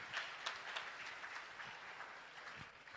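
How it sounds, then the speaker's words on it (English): Applause fills a hall at an HR conference, steady crowd clapping that stays quiet and distant, with a few sharper claps standing out over about three seconds. "So a big clapping for BSS ISS."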